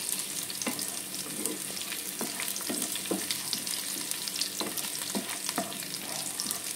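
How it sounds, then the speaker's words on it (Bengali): Chopped garlic and green chilies frying in oil for chili chicken, a steady close sizzle with intermittent clinks and scrapes as a spatula stirs them. "রসুন কুচি আর লঙ্কা কুচিটা দিয়ে দেবো।"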